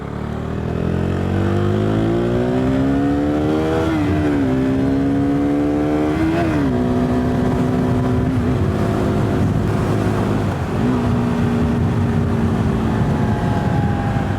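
A KTM 390 Duke motorcycle engine revs hard through the gears, its steady droning note climbing and dropping at each shift, with a rough, jerky change from second to third as the bike jumps out of gear. Loud and close throughout, with no talking.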